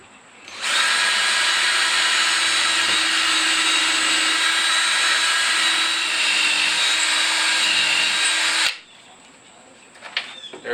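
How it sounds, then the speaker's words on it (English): Power drill boring pilot holes into 2x2 wood, one continuous high-pitched whine lasting about eight seconds at close range, then stopping abruptly, followed by brief handling clatter. "Just going to drill these pilot holes and then move on to the next step."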